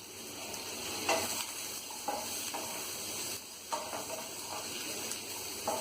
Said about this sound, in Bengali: আমি সবার আগে হলুদের গুঁড়োটা দিয়েই এটা ভেজে নেব।